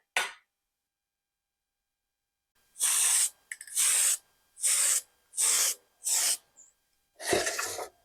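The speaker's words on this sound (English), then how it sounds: "we've got the body steady over here, so we can put some clear coat on this guy" Five short hissing bursts from a spray can applying clear coat to a 1:24 scale model car body, close and evenly spaced, followed by one longer spray after a brief pause.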